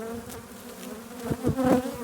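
Honey bees swarm over an open hive during an October colony inspection, a steady close buzzing drone that swells and grows more agitated toward the end.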